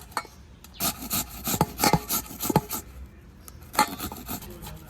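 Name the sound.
grating jackfruit seeds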